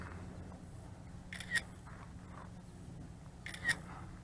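Shutter of a Bayangtoys X28 2.4G 1080P WiFi FPV RC drone camera firing twice, each a short crisp click about two seconds apart over a low steady hum.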